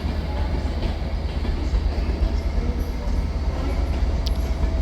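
A London North Eastern Railway train at Manchester Piccadilly station, heard as a steady, loud low rumble of rolling stock and engine noise filling the whole stretch, with faint high squeals and clicks on top and no talk.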